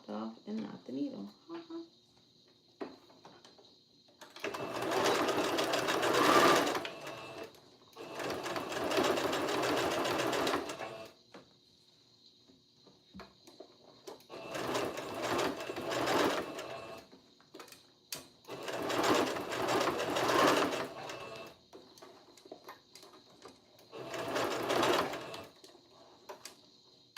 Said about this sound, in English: now we are going to sew